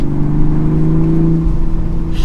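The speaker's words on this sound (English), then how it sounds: "B58 is a BMW 6-cylinder, one of the best turbo engines out there, and it is effortless in the power delivery" BMW's B58 turbocharged inline-six in a Toyota GR Supra revs smoothly, a steady mid-pitched engine tone rising slightly, close and loud for about two seconds with no voices over it.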